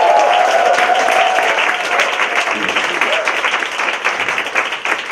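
An audience at a Toastmasters English speech contest night in Kaohsiung applauds, giving steady, loud clapping that tapers slightly over a few seconds, with no speech over it.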